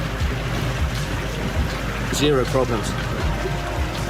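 Rigid inflatable Highfield 860 boat moving slowly at 2 to 3 knots, a steady wash of water and low engine rumble under someone talking.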